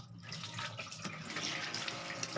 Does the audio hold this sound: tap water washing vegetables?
yes